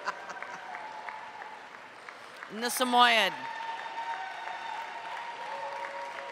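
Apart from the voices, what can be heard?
audience applause at a dog show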